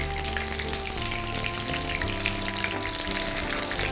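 Chicken legs pan-frying in oil over medium-low heat, skin side browned and turned; a steady, crackling sizzle runs throughout, with soft musical tones underneath and no speech.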